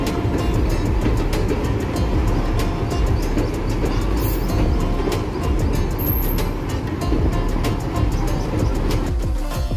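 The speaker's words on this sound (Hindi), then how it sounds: "प्लेटफॉर्म नंबर 1 पर आ रही है अमृतसर हरिद्वार जनशताब्दी एक्सप्रेस।" The Amritsar-Haridwar Jan Shatabdi Express pulls into a platform at Roorkee station, a continuous loud rumble and rattle of wheels on rails throughout, with faint bird calls and a brief high squeal.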